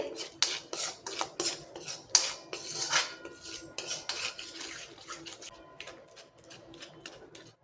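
Metal spoon clattering and scraping against a cooking pot while curd is stirred into a kala chana curry, irregular clinks and rasps in quick succession, close and moderately loud with no voices.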